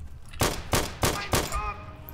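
Gunfire from the video game RTCW: four sharp, loud shots in quick succession, evenly spaced and close, followed by a fainter ringing tail.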